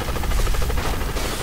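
A helicopter in the racing video game Split Second gives a dense, loud, pulsing rotor roar with a rapid chop across a broad noisy band, steady and close with no voices.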